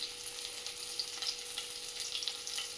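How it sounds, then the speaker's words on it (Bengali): Bora fritters frying in hot oil give a steady, close sizzle with crackling spits throughout, and no voices. "বড়া ভাজা বসিয়ে দিলাম"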